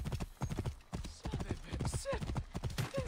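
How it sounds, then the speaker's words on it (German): Horse hooves gallop quickly along a street in Assassin's Creed Origins, a steady, close clip-clop rhythm that continues throughout while someone talks over it. "das Pferd rennt und rennt und rennt und rennt, hört nicht mehr auf."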